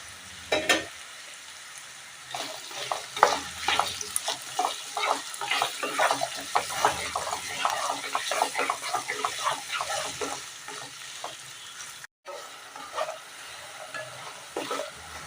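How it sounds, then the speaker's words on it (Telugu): Potato pieces frying in oil in a pan, a steady crackling sizzle with scattered pops and stirring clatter, fairly close and continuous with a brief break near the end, no talking. "ఈ ఆయిల్లోనే మిగిలిన ముక్కలన్నీ వేసేసి ఫ్రై చేసుకోవాలి."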